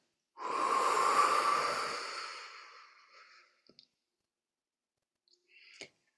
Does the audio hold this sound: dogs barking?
no